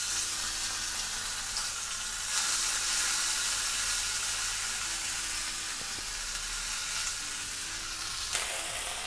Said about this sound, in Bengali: ফোড়নটা একটু ভাজা ভাজা হয়ে গেলে এর মধ্যে আমি আদা বাটা দিয়ে দেব